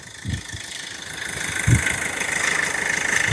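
A used car offered for sale idles with a steady, close engine rumble and a slight knock, holding an even note with a couple of low thumps, no talking.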